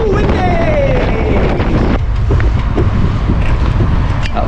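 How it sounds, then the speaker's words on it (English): Strong wind buffets the microphone of a cyclist riding an endurance road bike on an open road, a loud unbroken roar filling the whole stretch, with a falling tone early on before the gusts carry on. "Woo, windy!"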